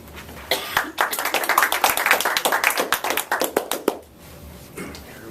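A roomful of people applauds an evaluator at a speech club meeting, a burst of dense clapping that swells for about three seconds, then tapers off into a quieter room.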